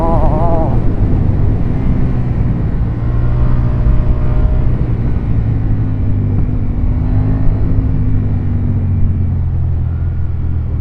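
A KTM 890 Duke's twin-cylinder engine roars close and loud under hard riding, a dense continuous rumble with rising and falling revs that holds steady throughout, with no voices.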